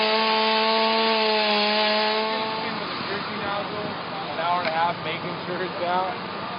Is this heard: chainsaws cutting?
yes